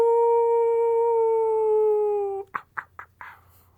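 A man imitates a dog with a loud, drawn-out howl that holds and slowly falls in pitch, then breaks off into a few short, choppy vocal bursts.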